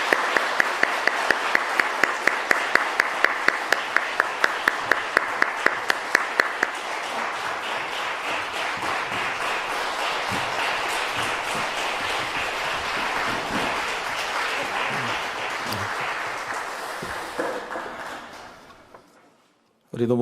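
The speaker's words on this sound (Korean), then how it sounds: "다시 한번 박수하겠습니다" At a family dawn prayer service at Gwangju Seoseok Church, the congregation claps in a steady, rhythmic unison beat that loosens into looser general applause, then fades to quiet near the end.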